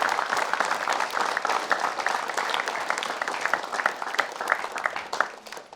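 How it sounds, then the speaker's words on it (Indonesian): Studio audience applauding a religious teacher on an Indonesian TV talk show, steady dense clapping from a crowd lasting several seconds with no voices on top. "Tepuk tangan boleh untuk Ustadz Danu"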